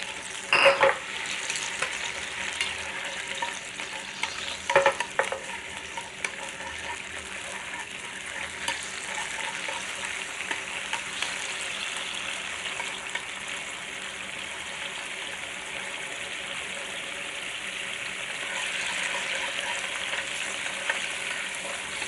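Fish sizzles steadily in a hot pan while ginger soy sauce is stirred in, with a constant frying hiss and a few scraping stir strokes near the start.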